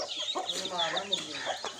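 A hen clucks close by in a farmyard, a run of short, quick, rising clucks over about two seconds with no talking.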